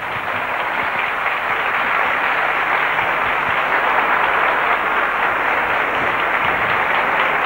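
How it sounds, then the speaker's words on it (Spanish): Steady, dense applause fills a 1988 concert hall in Écija, Spain, as the audience claps for the orchestra's musicians, a continuous broadband wash of hand claps at even loudness without a break. "quiero pediros, por favor, un fuerte aplauso para todos los profesores de la orquesta"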